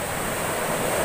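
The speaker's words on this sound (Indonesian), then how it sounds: "Ombak datang. Mukul ke dinding itu." Sea waves striking a sea wall on the south coast of Seram, Central Maluku: a continuous broadband wash and rush of surf with wind, loud and steady with no distinct individual impacts.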